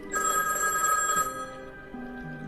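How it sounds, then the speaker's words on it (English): A telephone bell rings in one bright, trilling burst lasting about a second, close and clear in a quiet home, then fades out into a faint lingering tone. "until the phone rang."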